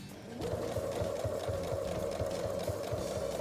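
A sewing machine stitches a new seam over an earlier one to join fabric squares, running in a steady, even rapid rhythm of needle strokes, close up and continuous after a brief start.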